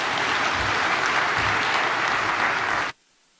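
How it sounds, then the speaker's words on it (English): A crowd applauds after a political speech, dense sustained clapping at steady loudness that cuts off abruptly near the end. "Round of applause to His Excellency the PCS."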